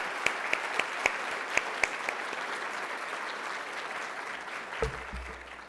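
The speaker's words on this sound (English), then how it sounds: "Give yourselves a round of applause." Audience applause at a fundraiser event, steady clapping from a crowd sustained throughout, with a few sharper louder claps near the start and a low rumble toward the end.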